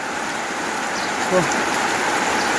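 Rain falls during a storm: a steady, dense hiss of rainfall runs unbroken throughout, loud and close, with one faint low knock partway through.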